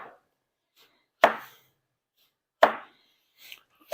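Sharp knife chops slicing an eggplant into rounds on a cutting board, three distinct cuts at roughly even intervals with quiet gaps between them.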